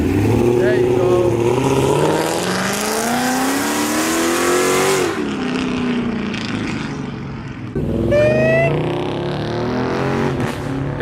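Toyota Supra passing at a night car meet in Illinois, a loud engine rising and falling in pitch as it revs by, then a second sharp rev near the end, with crowd chatter around.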